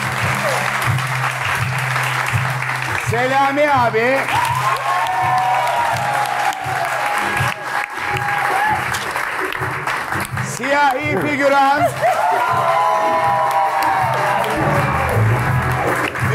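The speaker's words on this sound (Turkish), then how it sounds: "Tek tek oyuncularımızı alkışlayarak puan vereceğiz" A late-night TV talk show studio audience applauds and cheers performers with continuous clapping and crowd noise, while a host's voice talks and calls out over it throughout.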